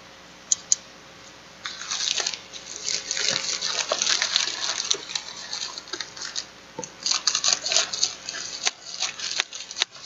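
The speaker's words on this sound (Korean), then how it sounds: "언박싱 해보겠습니다." A delivered book package being unboxed at a desk, with irregular rustling, crinkling and tearing of packaging in close bursts, separated by brief quieter gaps and a few sharp taps.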